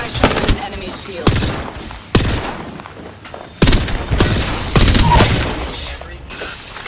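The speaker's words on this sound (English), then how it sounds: "I shot an enemy shield." Loud, close gunfire from the video game Apex Legends, playing as Ash, comes in repeated sharp bursts and booming shots with short gaps between volleys.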